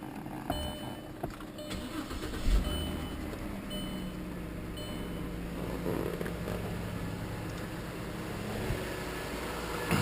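A 2003 Audi A6 quattro with a 3.0-liter engine cranks briefly and catches, then settles into a smooth, quiet, even idle heard close up with no talking over it.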